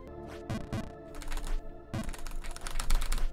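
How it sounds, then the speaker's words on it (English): Rapid bursts of computer keyboard mashing during a Jump King play session, clustered clicks near and fairly loud, with short gaps between flurries and no talking. "You can hear me mashing the keyboard every time I'm sliding down."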